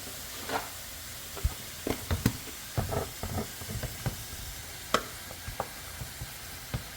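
Beef pieces hitting a hot pan for a Kerala-style curry, crackling and sizzling in scattered sharp pops over a low steady frying hiss, close and without talk.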